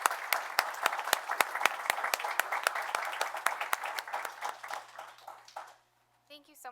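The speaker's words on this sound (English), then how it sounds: "please give Holly a round of applause." Audience applause at a town board meeting, a room of people clapping steadily with sharp individual claps standing out, fading out after about five seconds before a voice briefly begins.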